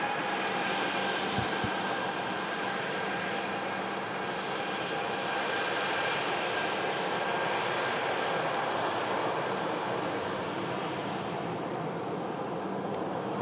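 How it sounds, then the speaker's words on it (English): A Ryanair Boeing 737-800 taxiing at Manchester Airport toward Terminal 3, its jet engines giving a steady, moderately distant whine and roar that holds evenly throughout without voices. "Ryanair 737-800, just taxiing it. Heading over to Terminal 3 at Manchester."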